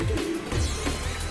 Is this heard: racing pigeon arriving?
yes